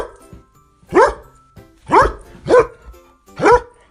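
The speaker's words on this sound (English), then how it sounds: "Dog," A dog barks four times in a steady, evenly spaced sequence, each bark loud and close with short quiet gaps between, heard alone among a series of farm animal sounds.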